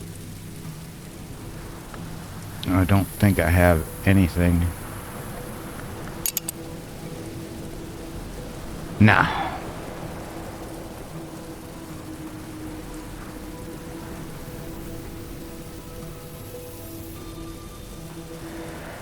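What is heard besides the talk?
rain ambience in the video game Book of Hours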